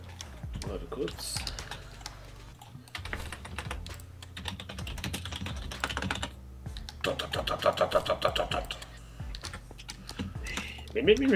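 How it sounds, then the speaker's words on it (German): Someone hammers hard on a computer keyboard while playing a modded Minecraft pack. Bursts of fast, clattering keystrokes run throughout, with a voice talking over them. "Ich habe wenigstens noch eine funktionierende Tastatur. So wie du drauf rumhämmerst, bald nicht mehr."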